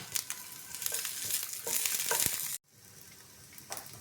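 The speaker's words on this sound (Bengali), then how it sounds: "পেঁয়াজ আমার ভাজা হয়ে গেছে" Cubed onion, cut thick, sizzles in a hot pan for a Chinese bok choy dish, with crackling fry noise and a few stirring scrapes, close and steady until it cuts abruptly to a quieter, fainter sizzle.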